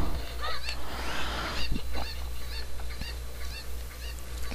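Cucco chickens in Zelda Ocarina of Time squawking and clucking repeatedly, a series of sharp honking bird calls in irregular rhythm, fairly close and clear over a low steady hum.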